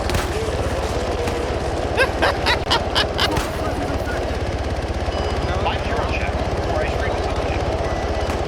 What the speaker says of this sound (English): No, he's aggroed on the chopper.